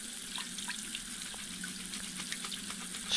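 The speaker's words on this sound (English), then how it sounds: "Turn the water on." Water runs from a tap at a cleaning table in the Toy Tinker Simulator video game, a steady, fairly quiet hiss with small splashy flickers, heard alone.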